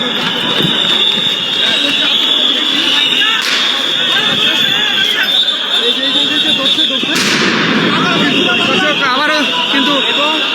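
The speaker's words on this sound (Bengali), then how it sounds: "সাউন্ড গ্রেনেড আমরা দেখতে পাচ্ছি।" Sound grenades burst during a street clash in Paltan, with two sharp bangs rising out of a loud, continuous crowd roar and talk nearby.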